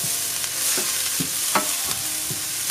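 Garlic and ginger sizzle steadily in hot oil while a utensil stirs them, giving several distinct scraping strokes over the continuous close frying hiss.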